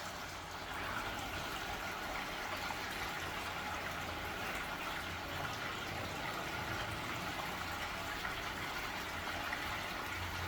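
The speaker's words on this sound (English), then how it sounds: "Listen to the water." Continuous rushing flow of spring water in Nazareth, a steady close splashing gush with no pauses and no voices.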